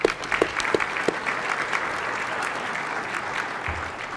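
Applause from the gallery of a state Senate chamber during a floor session, a broad steady wash of many hands clapping in a large hall, with a few sharp nearer claps at the start, continuing evenly to the end.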